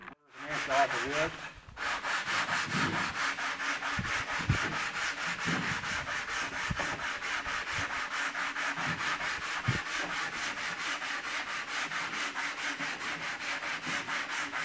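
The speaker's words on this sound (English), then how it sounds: "you have to actually sand it with sandpaper or, you know, with a file like what I have here" Composite foam being sanded by hand with sandpaper or a file: continuous close rhythmic scraping strokes, steady and loud, with a few knocks early on.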